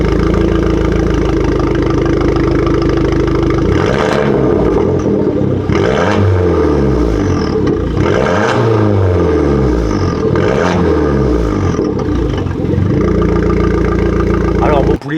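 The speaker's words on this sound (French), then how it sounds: "je sais que tu as envie d'entendre le bruit de l'échappement" Abarth 595 with a modified exhaust idling close by, a steady low rumble that swells into several throaty revs in the middle before settling back to idle, loud and continuous.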